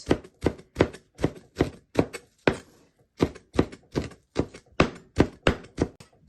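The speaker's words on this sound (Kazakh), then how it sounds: "Көк пиязымызды турап жатырмыз." Green onions are chopped with a knife in a brisk, even rhythm of sharp thuds on a cutting board, about fourteen strokes with one short pause midway, heard up close without talk.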